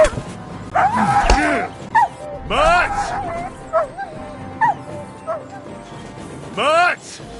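A dog in the video game Kingdom Come: Deliverance 2 gives several short yipping barks and whimpers in bursts, mixed with shouting voices and game sounds.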